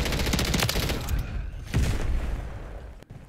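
A JAK Nightshade LMG fires in a video game, rapid loud bursts of automatic gunfire, a brief pause, then another burst, with a sharp cut near the end.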